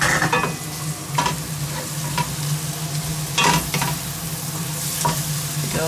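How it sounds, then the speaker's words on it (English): Leeks fry in butter in a pan as a close, loud, continuous sizzle, with repeated stirring scrapes and clatters at irregular intervals throughout. "Give those a good fry."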